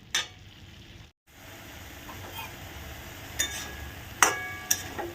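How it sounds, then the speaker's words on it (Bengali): Red spinach and fried potato are turned in a pan over medium flame: a low sizzle runs throughout, broken by a few sharp scrapes and taps of the spatula. "দিয়ে ভালো করে আস্তে আস্তে মিডিয়াম ফ্লেমে নাড়তে থাকো"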